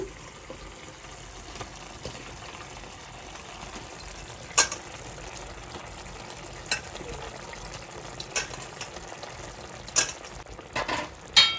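Mushrooms sizzling in a curry in a pan, with a steady low frying hiss broken by occasional sharp stirring clinks and scrapes, close and moderately loud with no talking.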